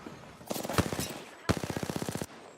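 Automatic gunfire in the video game Apex Legends rattles in two rapid bursts of evenly spaced shots, loud and close, with a short pause between the volleys.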